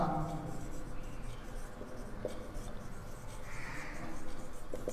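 Pen scratching on paper while an accounting ledger entry is written, with a teacher's voice speaking throughout in a quiet room.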